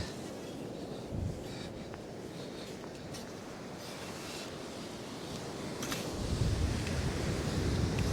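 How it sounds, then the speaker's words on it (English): Gusty wind buffets a microphone on a Northumberland beach by the sea, a steady broadband roar that swells louder toward the end, with no voices. "That wind's really gusty."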